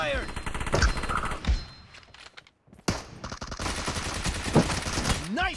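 Automatic gunfire bursts in the battle royale game PUBG during a team deathmatch, loud rapid rattling volleys with sharp sweeping effects, a brief near-silent gap midway, then dense firing resumes.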